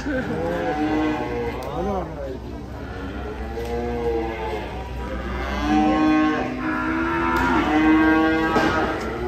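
Several cows being unloaded from a truck moo in long, drawn-out lows, overlapping one another at close range, with the calls swelling louder toward the end.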